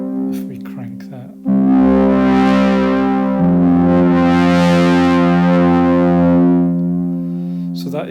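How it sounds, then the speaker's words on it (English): The moodunits audio plug-in distorts a sustained synth note, a rich buzzy harmonic tone that swells in, shifts pitch partway through and holds loud before fading, with brief voice fragments at either end. "that is actually distortion coming from the plug-in"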